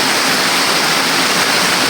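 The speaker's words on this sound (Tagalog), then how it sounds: "Kaya grabe na katagbunak sa uwan." Heavy rain pours down in a steady, dense hiss that stays loud and unbroken from start to finish.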